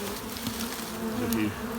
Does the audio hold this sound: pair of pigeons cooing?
no